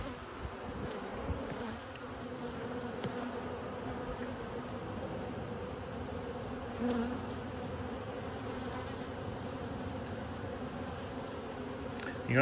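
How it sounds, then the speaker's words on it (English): Honeybees in a hive box buzz in a dense, steady hum throughout while feeding on syrup from a top feeder, a continuous droning swarm heard up close with no talking. "all the bees in the whole box are up top because they're trying to get food out of this feeder"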